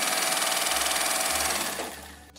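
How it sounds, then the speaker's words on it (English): A circa-1950s Pinnock Sewmaster sewing machine runs steadily with a fast rhythmic mechanical whir, close and loud, slowing and winding down near the end. "Just got to see if it sews."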